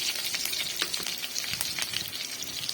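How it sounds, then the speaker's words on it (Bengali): Two dried red chillies stirred in hot oil in a cooking pan, a dense continuous frying crackle with scattered sputters and scraping, close and fairly loud, no talking. "আর আমি একটু এটা নেড়ে নেব"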